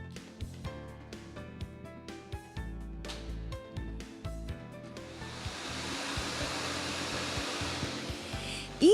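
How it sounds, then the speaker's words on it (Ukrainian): A lottery ball drawing machine starts up during a televised Megalot draw, first scattered clicks and knocks of balls, then a steady rushing whir of tumbling balls and air building from about five seconds on. "ми вмикаємо лототрон"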